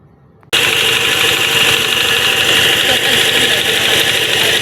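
After a brief quiet moment, an engine starts up and keeps running loudly and steadily with a rough, vibrating idle.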